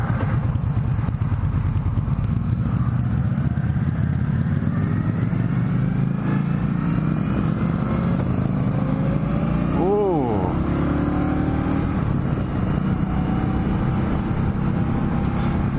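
A 2017 Indian Scout motorcycle cruises in third gear at about 3,000 rpm, its engine a loud, steady, close drone under wind rush, with one brief rising and falling whine midway and a voice talking over it.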